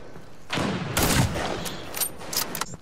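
Video game gunfire: a short burst of rapid shots, then scattered sharp cracks and pops, loud and close, with faint talk mixed in.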